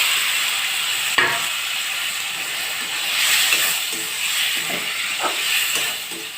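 Tomatoes frying in a pan for a tomato chutney served with kudumu: a steady broadband sizzle and hiss throughout, with a sharp clatter near the start and a few soft scraping stirs later, no talking.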